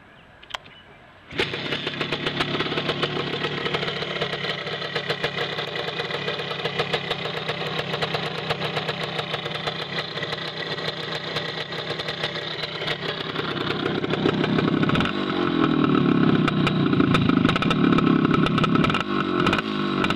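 A 1974 Yamaha MT250 Elsinore motorcycle engine, warmed up about twenty minutes, catches after a brief quiet start and runs steadily with a buzzy, knocking two-stroke idle, then revs louder toward the end.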